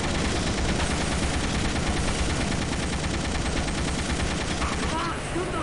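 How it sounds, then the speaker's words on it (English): Continuous gunfire in the video game They Hunger, a dense rapid stream of shots blending into a loud, sustained rattle that barely lets up, with some voice mixed faintly under the noise. "Come on, shoot those bastards. I'm fucking shooting them."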